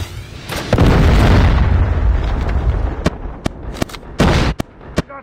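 A Predator missile explosion in Call of Duty Mobile lands as a loud, heavy boom with a sustained rumbling roar, followed by several sharp separate blasts or shots toward the end.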